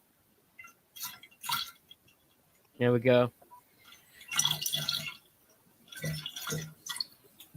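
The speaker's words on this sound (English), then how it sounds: "I knew it was pouring a drink into something" Drink poured into a decanter in a pub shed, short bursts of gurgling liquid and splashing spread across several seconds, with someone speaking briefly in between.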